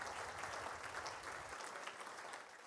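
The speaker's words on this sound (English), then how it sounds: "Yep, round of applause." Dense, even applause from a crowd at a women's football awards night, honouring the high-performance team, continuous and fairly distant.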